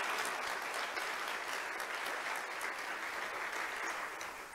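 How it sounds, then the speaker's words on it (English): An audience at an annual event gives a big round of applause for Consigli Construction and DPS Group Global, steady dense clapping from a large room that tapers slightly at the end. "Let's give Consigli Construction and DPS Group Global another big round of applause."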